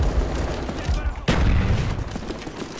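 Rapid gunfire in Call of Duty: Black Ops multiplayer, a dense spray of shots with one sharp louder burst near the middle, continuous and close, with a voice talking faintly underneath.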